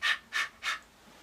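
A person imitates panting with three short, harsh breathy puffs in an even rhythm, close to the mic and alone.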